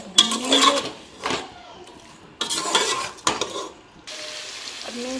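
Chicken being fried and stirred in a pot for degi danedar haleem, with scraping stirs and a steady sizzle coming in bursts, close and moderately loud, no talking.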